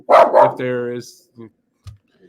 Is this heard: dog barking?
yes